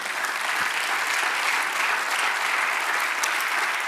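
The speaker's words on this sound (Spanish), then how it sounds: "Dale un aplauso al Señor" Congregation in church applauding the Lord, a steady, full round of clapping from many people at moderate loudness, continuous throughout with no talk over it.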